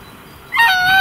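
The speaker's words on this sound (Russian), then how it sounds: "Это гуси. Не утки." Quiet background at the Karpaty sanatorium in Mukachevo, then halfway through a loud burst of harsh, nasal honking calls from geese close by, overlapping and continuing to the end.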